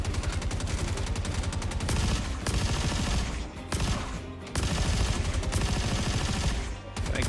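Dense gunfire from a video game shootout, bursts of automatic and rapid shots rattling almost continuously, loud and close with brief lulls between volleys.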